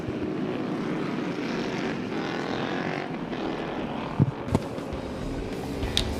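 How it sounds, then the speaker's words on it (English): Loud, continuous engine roar from a pack of Super Hooligan racing motorcycles on a warm-up lap at Laguna Seca, dense and sustained, with a few sharper revving bursts near the end. "the noise from these bikes is absolutely deafening"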